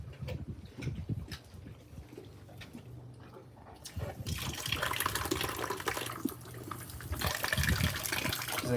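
A tap runs for a dog to drink, with water splashing and gurgling close by. The flow grows louder and fuller toward the end.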